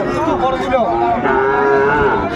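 A Sahiwal bull calf among cattle for sale lets out one loud, continuous moo nearby, lasting over two seconds with almost no talk over it.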